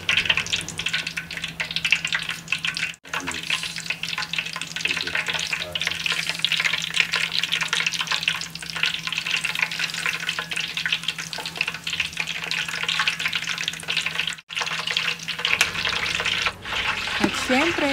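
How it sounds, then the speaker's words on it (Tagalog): Chili garlic sauce ingredients, including lemongrass, ginger and crushed onion, fry in boiling oil with a steady, loud sizzle and crackle throughout, broken by two brief pauses, with occasional stirring and no talking. "ihahalo po natin ito sa mantika na kumukulo"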